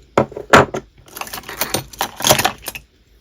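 Nephrite jade bangles clink and knock together in a quick scatter of bright, hard taps, close up and fairly loud, with no talk.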